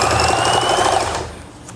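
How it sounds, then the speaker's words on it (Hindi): A sewing machine runs steadily at close range, stitching along a cord for an Arab patti trim. The whirring stops after about a second and a quarter, leaving only faint noise. "डोरी को सिलाई लगाने शुरू करनी है"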